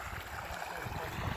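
Irrigation water flows steadily through a sugarcane field during planting, a faint, continuous gurgling rush with no talking.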